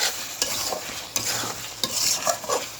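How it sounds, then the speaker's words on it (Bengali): Liver and fried potatoes are stirred in spices in a pan for kolija bhuna, with repeated sharp scrapes and clacks of the spatula over a steady frying sizzle. "মশলার মধ্যে কলিজাগুলো দিয়ে দেবো, নাড়িয়ে দেবো। আস্তে আস্তে কষাতে হবে।"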